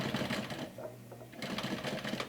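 Sewing machine stitching fabric binding on a mini backpack, a fast, close mechanical whirr of needle strokes that pauses briefly midway before resuming.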